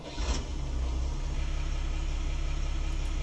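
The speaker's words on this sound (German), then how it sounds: "Dazu starten wir einen Traktor" A tractor engine in a farming video game starts with a brief cranking burst, then settles into a steady, low idle rumble.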